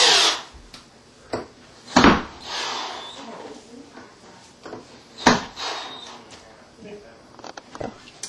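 Stair lift mounting bolts driven tight with a power tool indoors: several short sharp bursts of drilling and clunking, spaced irregularly, with quieter handling noise and some talking between them.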